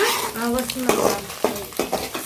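Food sizzles in a hot pan while a utensil stirs and scrapes it in several distinct strokes, close and fairly loud, with a brief voice faintly under it.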